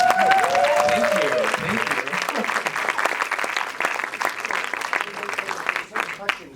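An audience at a short-film screening Q&A breaks into loud, dense applause that gradually thins and fades, with voices briefly audible over the clapping at the start.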